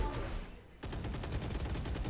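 Gunfire in the tactical shooter Valorant during a collegiate match: after a brief lull, sustained rapid automatic bursts crackle steadily at moderate distance, faint overall in level.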